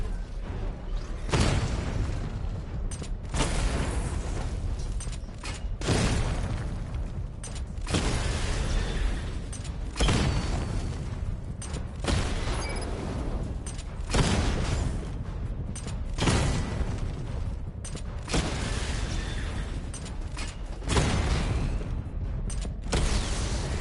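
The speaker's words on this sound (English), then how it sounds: "Charge the missile barrage to level 2 to destroy up to 4 targets at once." Missile barrage explosions in the Batman Arkham Knight video game, a run of booming blasts and bursts at fairly regular intervals, loud and sustained, with mechanical creaks between hits.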